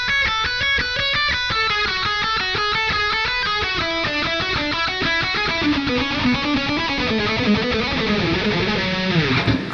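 A fast shred lick on distorted electric guitar, alternate picked in a steady machine-gun stream of notes winding downward, loud and close with no voices.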